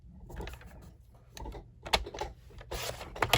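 Cardstock is trimmed on a paper trimmer with a quick run of close clicking and sliding blade strokes. The strokes are irregular and crisp, some louder than others.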